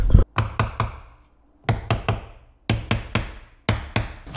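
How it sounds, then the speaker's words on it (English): A trailer hitch part being tapped down into place with a hammer: three separate bursts of three or four sharp, close knocks, each ringing briefly before a short pause. "I should be able to just tap this down a little bit"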